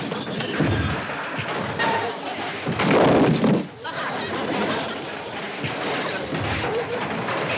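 Saloon brawl in an old black-and-white TV comedy, with a man throwing punches at a group of opponents: a loud, crowded mix of scuffling, dull thumps and crashes, peaking in a heavy burst midway, with voices shouting throughout.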